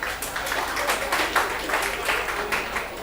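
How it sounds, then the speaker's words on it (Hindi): A seminar audience applauds to welcome a speaker, a dense, continuous crowd clapping heard up close with a voice faintly mixed in. "जोरदार तालियां राठौर सर के लिए"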